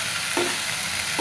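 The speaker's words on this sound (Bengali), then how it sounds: "এর ভিতরে দিয়ে দিব লবণ, দিয়ে ভালো মতো নাড়াচাড়া দিয়ে নেব" Okra pieces fry in a pan with salt while being stirred, giving a brief, loud, continuous sizzle close up, alone without any voices.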